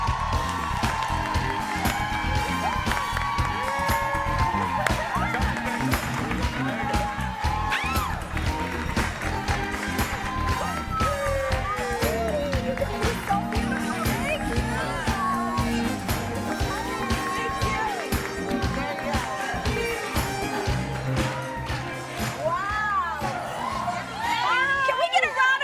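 A studio crowd cheers and applauds continuously, with whoops and shouts rising over the clapping and voices chattering throughout.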